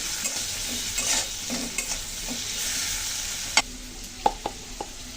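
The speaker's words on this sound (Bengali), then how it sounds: "পেঁয়াজগুলো সুন্দর করে ভেজে নেব" Sliced onions frying in oil with a pinch of turmeric and salt, a steady close sizzle with a few sharp spatula scrapes and taps toward the end, no one talking.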